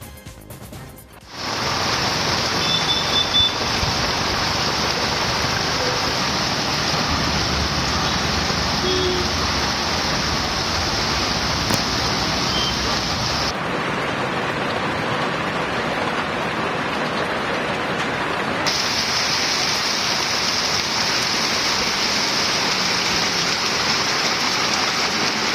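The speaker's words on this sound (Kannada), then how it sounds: "ಇತ್ತ ಚಿಕ್ಕೋಡಿಯಲ್ಲೂ ಕೂಡ ಮಳೆಯ ಆರ್ಭಟ ಜೋರಾಗಿದೆ." Heavy monsoon rain pours steadily in Chikkodi, a dense, loud, unbroken hiss of water on surfaces that holds for the whole stretch with only a brief change in texture midway, and no voices.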